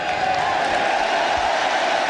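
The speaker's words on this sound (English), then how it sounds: "And a big cheer, as you'd expect." A stadium crowd at a cricket match between Australia and New Zealand roars in a steady, dense cheer, far off and sustained, with no clear individual voices.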